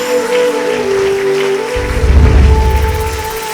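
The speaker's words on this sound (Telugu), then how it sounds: "అరే చప్పట్లు కొట్టండి అయ్యా." Church congregation clapping together after a call from the pastor, a burst of hand claps rising and sustained for a couple of seconds over a hall's background hum.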